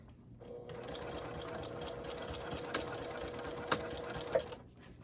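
A sewing machine runs steadily, stitching and back-stitching the centre seam of a zippered makeup bag, a continuous close whir with a few small clicks and knocks, no voices over it.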